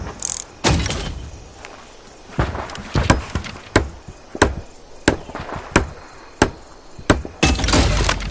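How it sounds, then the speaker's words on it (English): Repeated hammering while building an AA gun in a video game, sharp percussive knocks arriving in an uneven series of about a dozen loud, close blows. "Use the wrench to place it and the hammer to build it in the highlighted area."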